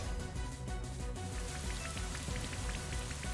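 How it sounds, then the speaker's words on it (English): Steady rain from the Rain Dance move in the Pokémon Brilliant Diamond video game falls as a dense, even patter with scattered sharper drop ticks, constant and fairly loud, with no talking over it. "Now the rain dance, we've got swift swim."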